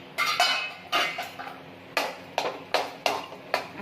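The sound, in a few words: lid taken off pan of jaggery sheera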